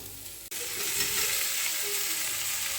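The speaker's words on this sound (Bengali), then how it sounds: "ভাজা হয়ে গেছে পেঁয়াজ এবার আলুগুলো দিয়ে দিচ্ছি" Loud, steady sizzling of onions and boiled potatoes frying in a hot pan, starting abruptly after a brief pause, with occasional soft stirring.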